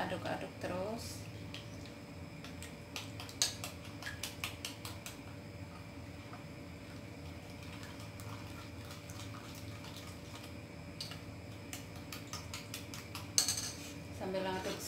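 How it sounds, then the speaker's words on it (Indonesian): Caramel pudding mixture stirred in a pan, with metal utensil clinks and scrapes against the pan at the start and near the end, and quieter continuous stirring over a steady background hum in between. "Kita aduk-aduk terus."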